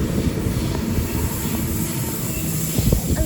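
A train passes along the railway line at Cheltenham during the afternoon peak, its steady rumble and clatter of wagons filling the scene up close, with a faint squeal from the wheels near the end.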